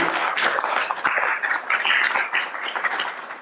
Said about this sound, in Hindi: सबके लिए तालियां